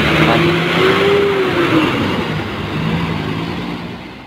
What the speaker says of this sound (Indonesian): jadi ini bus yang akan membawa aku trip ke kota Makassar, ditemani kru paling ramah itu Yayat dan Ria